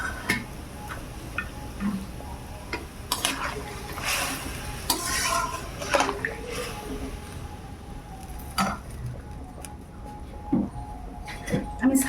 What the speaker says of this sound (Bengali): এবার ভাজা গেঁড়িগুলো দিয়ে দিলাম।